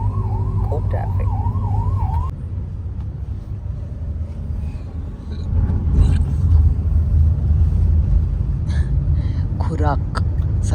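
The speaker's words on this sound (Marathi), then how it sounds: "खूप ट्रॅफिक आहे." Heavy road traffic around Thane: a steady engine rumble fills the whole stretch, a siren wails near the start, and scattered horns sound later, while voices talk over it.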